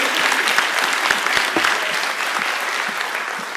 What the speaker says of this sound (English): can we have one big round of applause for Hester Bell, Director of the University of Leiden